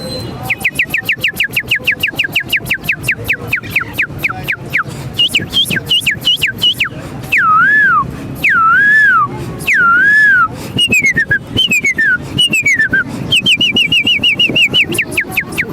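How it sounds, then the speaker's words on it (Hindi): A man whistles a long, lively melody with sliding and trilling notes, fairly loud and close, over a steady rhythmic rattling background at a bird market in Lalukhet. "पहले इनकी सीटी सुनते हैं"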